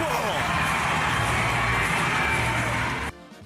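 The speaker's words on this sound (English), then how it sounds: "The crowd in Nashville, First Horizon Park, going nuts this weekend." A stadium crowd at a baseball game at First Horizon Park in Nashville roars and cheers loudly and continuously, with shouts and whoops, before cutting off abruptly near the end.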